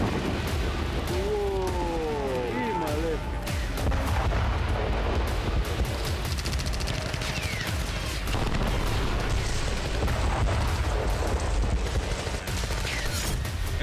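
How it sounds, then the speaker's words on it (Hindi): Israeli army bombardment in Khan Younis, Gaza, sounds as a loud, dense roar of booming blasts and rumbling fire that goes on without a break, with a few whistling tones near the start. "इजरायली सेना की बमबारी में खान यूनिस बुरी तरह से जल रहा है।"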